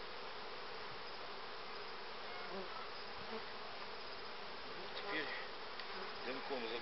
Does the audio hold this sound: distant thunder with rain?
no